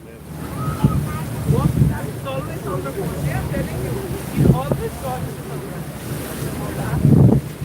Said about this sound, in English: So this boat we're on the Slipper, this thing can carry up to 750 people.